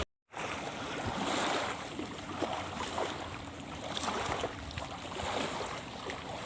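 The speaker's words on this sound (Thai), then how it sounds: "ตอนนี้ก็คือเป็นคลื่นทะเลอีกแล้ว ลมแรงมาก" Waves slapping and strong wind gusting over the Pa Sak Jolasid Dam reservoir during evening fishing, a continuous roaring wash of water and wind close to the microphone.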